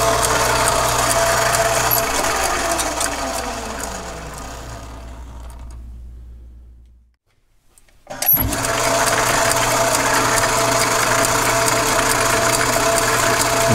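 A machine tool creeps slowly through a cut on a prototype steering sector part, giving a steady close mechanical whir and hum that drops away briefly, then resumes at full level.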